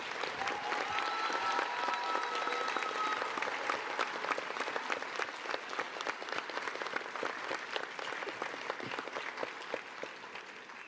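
Steady, sustained applause from a large audience at an Army ROTC battalion commissioning ceremony for newly commissioned second lieutenants, dense clapping filling the hall evenly for about eleven seconds with faint crowd murmur underneath.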